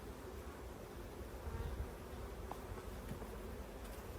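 A steady, dense hum of honeybees swarming over summer hive frames during an inspection, continuous and even throughout with no pauses.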